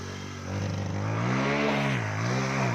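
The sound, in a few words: motorcycle ridden on a dirt road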